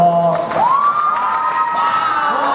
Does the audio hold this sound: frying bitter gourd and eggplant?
no